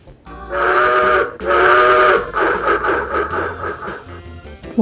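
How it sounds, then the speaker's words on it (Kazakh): A train whistle sounds two long, loud harmonic blasts, followed by a run of shorter pulsing toots as the train moves, with no voices. "Пойыз."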